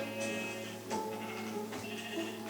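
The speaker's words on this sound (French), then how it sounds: "Pourquoi il y a des moutons d'ailleurs?" Sheep bleat repeatedly in the horror video game Don't Scream, several harmonic calls in a row over a steady droning background hum, with no talk.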